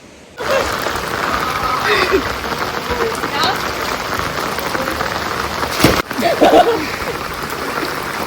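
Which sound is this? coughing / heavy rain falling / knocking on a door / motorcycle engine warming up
heavy rain falling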